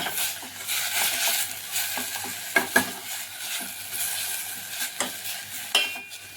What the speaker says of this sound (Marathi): तुपामध्ये पूर्ण एकजीव करून घ्यायचा आणि गॅस बारीकच ठेवायचा आहे आपल्याला